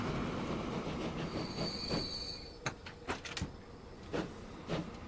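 Train running in the video game Transport Fever 2, with rolling rail noise, wheel squeal and a series of sharp clacks from the track. The sound is fairly quiet and has no talk over it.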